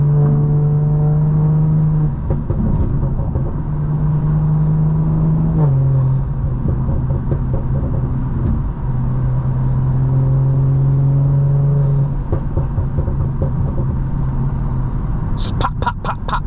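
A stage 2 tuned BMW M340i accelerating at night, its engine droning steadily through rising gears with brief pauses between shifts, then a quick burst of sharp exhaust pops near the end.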